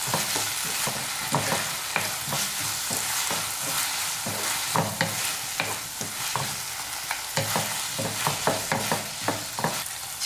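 Chicken manchurian sauce with tomato sauce and chilli sauce being stirred in a pan, a steady sizzle broken by frequent spoon scrapes and clicks in an irregular rhythm, close and fairly loud with no voices.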